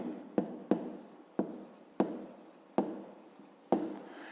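A pen writes numbers by hand on paper, a series of six or seven sharp tapping strokes each followed by a short scratchy trail, close and quiet with no talk.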